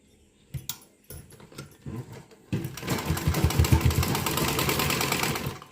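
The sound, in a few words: sewing machine stitching a dhoti salwar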